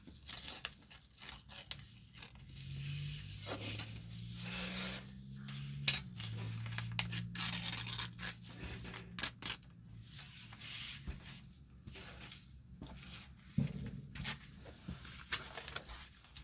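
Paper torn along a metal tear ruler for ephemera crafting: a series of close, crisp ripping strokes and papery crackles with light tapping and handling noises between them.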